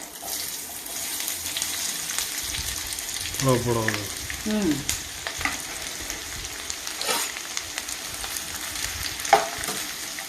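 Onions fry in plenty of oil for a tamarind leaf and egg scramble, a continuous sizzle with occasional stirring clatter, and a brief voice or squeak rising mid-way.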